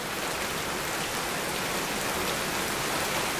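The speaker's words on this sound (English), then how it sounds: "definitely wait until after the rain." Steady, dense rain pours outdoors as a constant loud hiss with no pauses, and nobody speaks.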